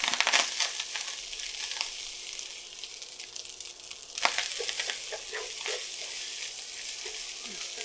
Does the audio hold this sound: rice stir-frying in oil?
yes